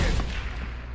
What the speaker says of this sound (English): Welcome to the M82.